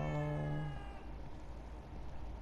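A single cat meow rings out in The Evil Within 2 video game, a short clear tonal cry at the start that fades into quiet ambient game sound.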